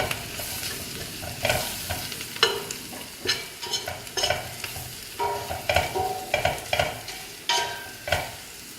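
Curry spices being stirred and toasted in a hot pan with a soft continuous sizzle, punctuated by repeated scraping strokes of a spoon every second or so, close and moderately loud with no talking.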